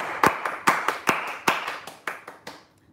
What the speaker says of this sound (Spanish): Aplausos para las cocineras.